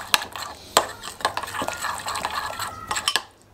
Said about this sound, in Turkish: Biraz da pul biber ekleyeceğim. Tekrardan karıştıracağım.